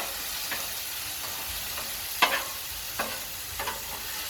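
Chicken and pork fried rice sizzles steadily on a Blackstone griddle, a constant close hiss broken by occasional sharp metal spatula scrapes and stirs.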